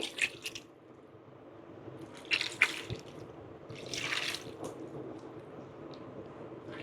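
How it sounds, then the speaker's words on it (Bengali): Water is poured into a bowl of mixed lentils and bottle gourd, giving soft close splashes and squishy liquid sounds in a few short bursts over a quiet background. "আমি এখন জল দিয়ে দিচ্ছি।"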